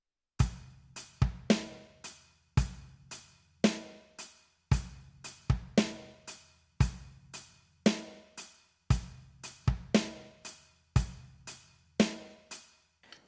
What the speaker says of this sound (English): Okay, so putting that in with our eighth note rock groove, the whole thing sounds like this.